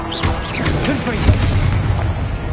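A Confringo fire spell explodes in Hogwarts Legacy on Hard difficulty, a deep booming blast over a busy mix of game effects and a steady low rumble lasting a couple of seconds.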